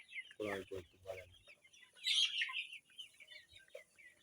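Bahama chickens clucking up close in a quick run of short bursts, followed by a higher squawk and a few scattered softer clucks in an otherwise quiet setting.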